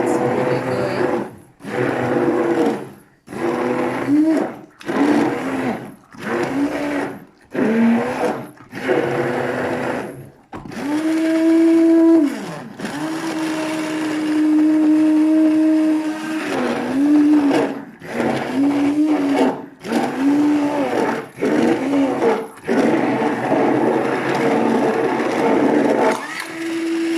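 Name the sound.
electric mixer mixing cake batter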